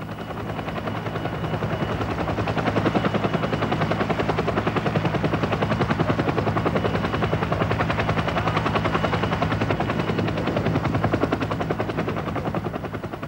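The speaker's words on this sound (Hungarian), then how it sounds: "A Hughes MD-500-as Defender együtt a Kobrával a libanoni háború legfélelmetesebb helikoptere volt." A Hughes MD-500 Defender military helicopter flies close and loud, its rapid rotor chop pulsing steadily and continuously for the whole stretch with no voices over it.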